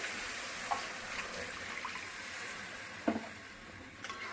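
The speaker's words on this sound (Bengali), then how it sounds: "আবার কিছুক্ষণ ভেজে নেব।" Kashmiri chili powder spice mix fries with a splash of water in a pan, giving a steady, soft sizzle with a few faint stirring scrapes and clicks throughout.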